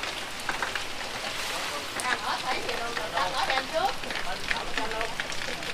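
Steady rain patters down in a Mekong Delta home setting, a broad even hiss with scattered drips, while voices chatter faintly beneath it.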